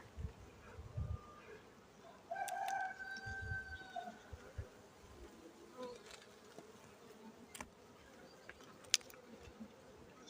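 Honey bees buzz steadily around a hive with supers stacked on top, a faint, continuous drone with a few louder passes close by.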